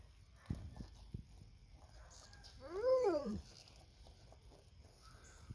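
A dog gives a single rising and falling whimper, a short whiny cry close by, with a few soft thumps before it and quiet background afterward.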